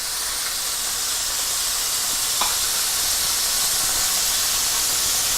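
Beef sears in a hot cast iron pan with a steady, loud, close sizzle and hiss that runs unbroken throughout, and no talk over it.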